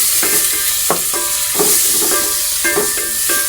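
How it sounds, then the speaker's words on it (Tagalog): Chopped tomatoes sautéing in a hot pan for a vegetable dish with patola, a loud continuous sizzle and hiss broken by a few stirring scrapes, close up and with no speech. "Lagay ko na yung kamatis"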